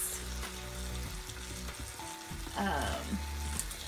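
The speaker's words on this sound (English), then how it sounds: "What I'm gonna be doing on my cast iron grill pan, see, is are some steaks." Marinated steaks sizzling on a cast iron grill pan, a loud, close, continuous crackling fry with small pops and a faint steady tone in the background, no voices.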